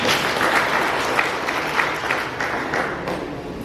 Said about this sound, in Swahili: Hebu tumpigie makofi sana Daktari Samia Suluhu Hassan